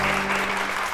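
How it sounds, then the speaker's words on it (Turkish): Applause fills this one-second moment in a Turkish drama scene at a company gathering, a dense steady wash of clapping with no voices over it. "Hani alkış?"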